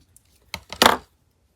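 Paper cut with scissors for a coin-envelope mini journal: a short, close snip-and-crunch made of two quick bursts, the second louder and longer, in an otherwise quiet space.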